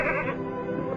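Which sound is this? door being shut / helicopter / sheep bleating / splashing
sheep bleating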